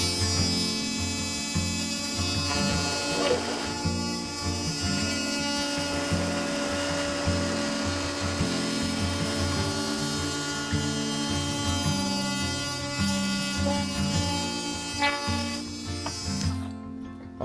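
A power tool cuts a part during restoration of a Lyman boat, grinding in a loud, steady, high-pitched whine that holds for over fifteen seconds with slight wavering, then cuts off abruptly at the end.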